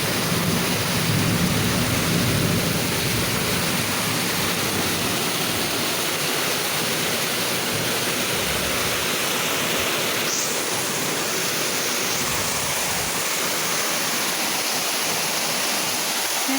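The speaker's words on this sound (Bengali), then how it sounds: "কি জোরে বৃষ্টি।" Heavy rain pours steadily and loudly for the whole stretch, a dense unbroken roar with low rumbles of thunder rolling beneath it, with no voices.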